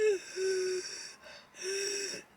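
A voice imitating wheezing from a throat swelling in an allergic reaction, two drawn-out strained, whistling breaths separated by a short pause, close and clear with no talk.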